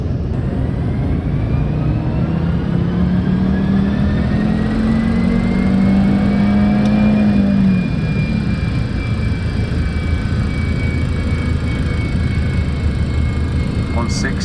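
A 30-year-old Volvo with 241,000 miles on it revs up with a steady, loud engine drone that rises in pitch around the middle, then holds a rough, continuous roar throughout.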